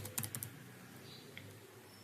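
Computer keyboard typing: a quick run of four or five light keystrokes at the start, then faint room hum with a stray click.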